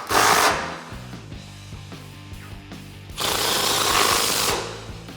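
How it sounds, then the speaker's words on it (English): Power driver spins a 15 mm deep socket on a swivel, tightening bumper bolts through the grill opening of a 2019-2021 Silverado 1500; two loud buzzing bursts at start and end, close by, with quieter mechanical rattling between. "I'm gonna use a 15 deep socket and a swivel socket to tighten them down right through the grill opening"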